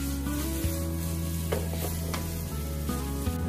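Fried tofu, minced garlic and chili sizzle in a hot wok as a spatula tosses them, with a steady frying hiss and a few scraping stirs close up, no voices.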